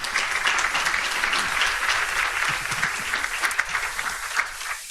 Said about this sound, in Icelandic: Ef engin mótmæli eru því, þá bara klappum við fyrir þeim.